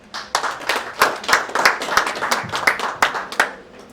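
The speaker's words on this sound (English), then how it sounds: "A big hand of applause for Jacqueline." Applause at an awards ceremony for nominee Jacqueline: a small crowd claps briskly and steadily, close and fairly loud, with individual hand claps standing out and faint murmuring underneath.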